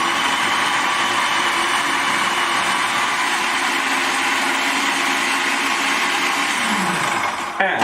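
A Kenwood food processor runs continuously on a slow speed while grating cooked beetroot, a steady whirring motor drone close by that winds down and stops at the end.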